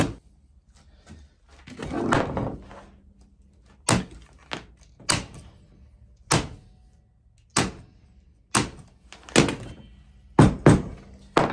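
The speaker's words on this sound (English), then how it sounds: "I'm just gonna staple them down" Folded material ends being stapled down while building a pin case, a series of about ten sharp, separate staple thunks at uneven intervals, close by, with rustling handling between them and no voices.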